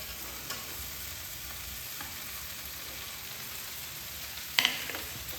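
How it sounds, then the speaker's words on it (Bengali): Fried potatoes get stirred into a drumstick and spice mixture in a pan, a soft continuous sizzle with faint scraping and a sharper clatter near the end. "আমি এবার এই ভেজে রাখা আলুগুলো এর সঙ্গে এর মধ্যে দিয়ে দিচ্ছি"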